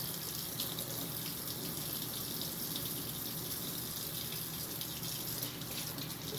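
Tap water runs steadily into a jar at a sink, a constant close gushing hiss at even volume with no talking.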